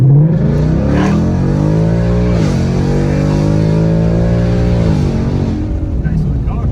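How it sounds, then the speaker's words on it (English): A Ford Mustang S550 revs hard as it accelerates uphill, its loud engine note climbing through gears with a brief dip at a shift before rising again, close and continuous throughout. "I'm just gonna give you a little hit what it sounds like taking off"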